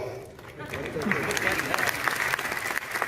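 An audience applauds steadily at a live comedy-style talk, a close, continuous patter of clapping that swells slightly and runs through the whole moment.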